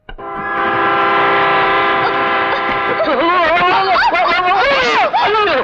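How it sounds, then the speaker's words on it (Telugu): A train horn blares loudly and continuously close by, a sustained harmonic blast that wavers and bends in pitch toward the end, with the rumble of a passing train beneath. "రైలు వెళ్ళినప్పుడల్లా ఆ అదురుడికి ఇలా ఊగుతూనే ఉంటుంది."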